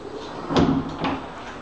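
A closet door in an apartment foyer with a ceramic tile floor, two short close thumps and rattles as it is handled, in an otherwise quiet room.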